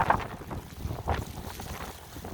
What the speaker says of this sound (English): Very windy, snowy